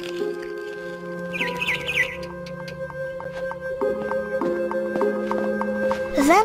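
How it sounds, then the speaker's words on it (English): A barn swallow in the video game What Remains of Edith Finch gives a few quick high chirps over sustained music tones, fairly faint and brief. "Then I heard chirping outside my window."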